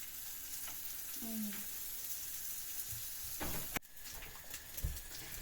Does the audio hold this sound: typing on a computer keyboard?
no